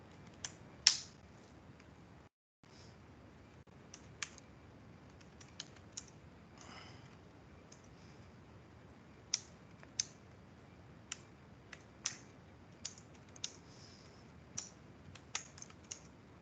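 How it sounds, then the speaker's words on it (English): Code being typed on a computer keyboard during a systems lecture: scattered, irregular key clicks and taps, close and fairly quiet, with short pauses between bursts and no talk. "I have a code which is something like this, which I am typing now"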